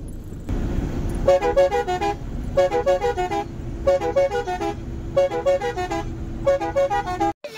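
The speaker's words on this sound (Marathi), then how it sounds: "बघा चालू गाडी आली" A road vehicle pulls up while its horn toots in quick rhythmic bursts, several loud groups of short honks separated by brief pauses, near and clear with an engine hum underneath.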